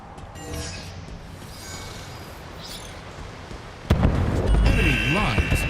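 Video game explosions burst loudly in a match, with a sharp heavy boom arriving midway that stays dense and rumbling to the end, over earlier softer game noise and some talk.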